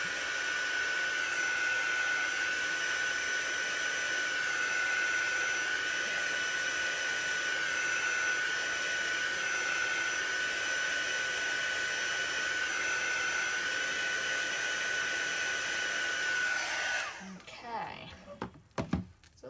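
A hair dryer blows steadily on craft butterflies, a loud continuous whoosh that holds for about seventeen seconds and then cuts off, leaving faint handling noises.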